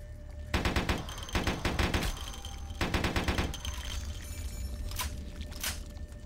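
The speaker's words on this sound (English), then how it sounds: "No, I just wanna shoot you now." Bursts of rapid automatic gunfire from Vampire The Masquerade Bloodlines come in three loud volleys separated by short pauses, followed by a couple of single sharp shots over a low game ambience.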